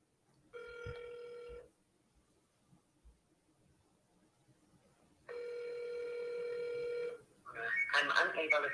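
An outgoing cold call to a real estate prospect rings on the line, two long ringback tones separated by quiet pauses, then a voice begins answering at the end.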